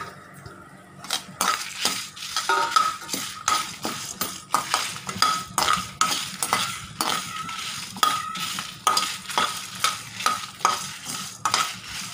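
Shallots fry with dried chillies, pepper and cumin in a pan for Chettinad fish curry. A utensil stirs and scrapes the metal in quick, rhythmic strokes over a constant sizzle, close up and with no talking.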